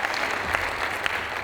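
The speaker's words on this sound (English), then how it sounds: "A round of applause." Steady applause from an inauguration audience, dense and continuous clapping filling the room at an even level throughout.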